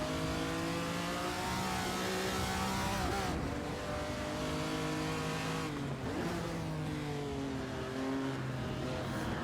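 A Ferrari 250 Testa Rossa races at Goodwood, its engine loud and close as it revs hard through the gears, pitch climbing then dropping at each shift over nearly ten seconds.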